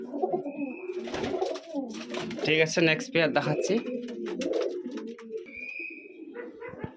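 Pet pigeons in a home loft give low, throaty coos in repeated bursts, close by, while someone talks over much of it.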